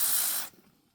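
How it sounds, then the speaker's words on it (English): Electronic contact cleaner sprayed onto a fuel pump relay from a Mercedes-Benz C126 SEC: one close, loud hissing burst lasting about half a second, then cutting off abruptly and leaving near silence. "I'm spraying it with electronic spray, by the way."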